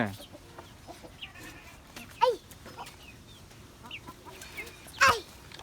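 Chickens cluck sporadically at feeding time, a few sharp calls standing out over a quiet yard, with faint voices in the background.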